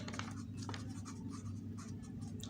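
Marker or chalk writing on a classroom board during a physics lesson, a steady scratchy stroking with short pauses between letters over a constant low electrical hum.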